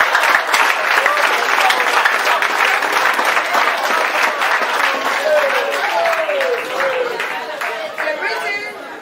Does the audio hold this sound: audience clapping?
yes